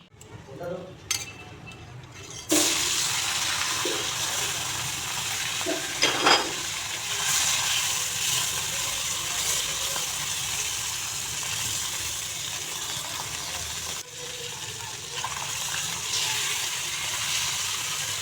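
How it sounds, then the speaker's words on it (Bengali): Small puti fish sizzle in a hot pan with a steady, close hiss that starts abruptly and continues throughout, with occasional faint clinks. "এখন মাছগুলোকে আমি একটু ফ্রাই করে নেব"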